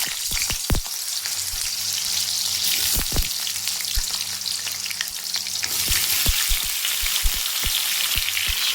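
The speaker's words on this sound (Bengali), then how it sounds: "তেল গরম হয়ে গিয়েছে, তাই এখন আমি এর মধ্যে আগে থেকে সেদ্ধ করে রাখা আলুগুলোকে ছেড়ে দিচ্ছি।" Pre-boiled potatoes frying in hot white vegetable oil: a steady crackling sizzle dotted with sharp pops and spatters, growing denser and louder partway through, close up and without speech.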